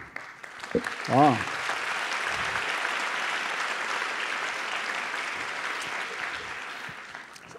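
An audience at a public meeting on a hospital neighbourhood development applauds speakers, sustained even clapping that fills the room for several seconds after a brief vocal exclamation.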